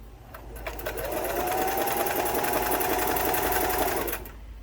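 A Singer 328k sewing machine stitches in one continuous mechanical whir that rises, holds steady for about three seconds, then stops, heard close up with no talking.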